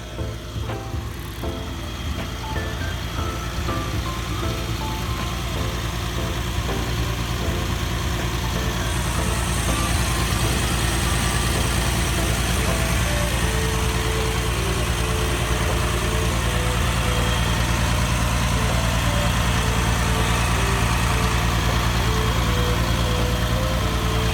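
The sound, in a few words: excavator diesel engine idling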